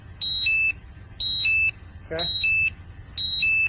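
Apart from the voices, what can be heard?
gas level meter alarm beeping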